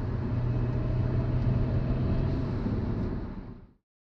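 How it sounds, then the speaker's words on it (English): A 2011 BMW 135i with a tuned shift cruises on the freeway, its steady engine drone and road roar filling the cabin at an even level before cutting off abruptly near the end. "This is the drive on the freeway."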